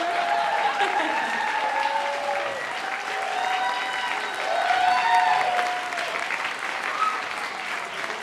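Graduation ceremony audience applauding rising freshmen, a sustained wash of clapping with cheers and whoops on top throughout.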